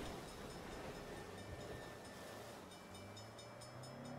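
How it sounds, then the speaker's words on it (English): A long train rolls past in the Saints Row (2022) video game, a faint continuous rumble and rattle of wagons with steady tonal hum and no voices. "How long is this goddamn train?"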